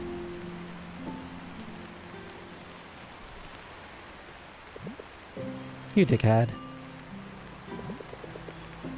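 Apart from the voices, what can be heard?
rain falling in the video game Until Then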